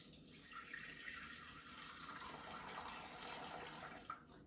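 Water poured into a Thermomix bowl, about 200 grams, making a steady, fairly quiet stream that runs continuously for several seconds and stops near the end.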